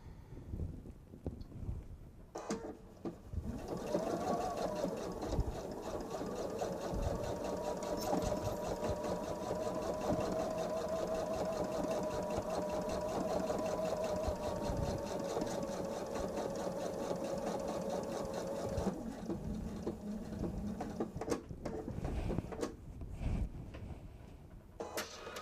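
A sewing machine stitching a bench pillow runs in one steady, close whirring burst of about fifteen seconds, then stops, with brief handling noises before and after.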